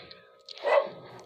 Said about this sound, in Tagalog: Pasensya po, ingay po ng aso namin.